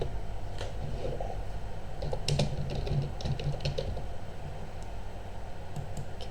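Typing on a computer keyboard to enter a message, with scattered light key clicks over a steady background hiss and low hum, no voices.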